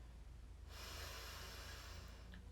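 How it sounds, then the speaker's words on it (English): A single long nasal inhale during a kriya breathing exercise starts abruptly and holds as a steady, close airy rush, with a faint background hum. "Now we're going to inhale to start."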